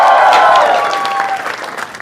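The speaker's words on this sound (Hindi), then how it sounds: "जोरदार तालियां for Raghu Ram" Studio audience at a comedy show breaks into loud applause, dense clapping that starts strong and thins slightly toward the end, with some crowd noise mixed in.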